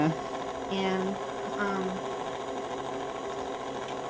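An electric mixer blends a soft-butter peanut butter bar dough with a steady whirring hum. A person talks over it as it runs.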